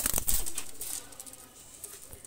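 A pair of Pakistani high-flyer pigeons is let go outdoors, with a short burst of wing flapping right at the start, then fading flutter and faint bird sounds against quiet surroundings.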